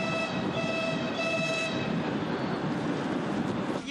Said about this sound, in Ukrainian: Усі зустрічають потяг зі столиці.